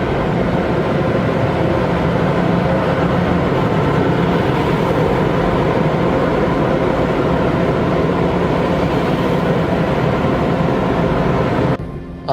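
Blowers in the dry cycle of an automatic car wash roar as a loud, steady, broadband rush for about twelve seconds, then cut off abruptly just before the end.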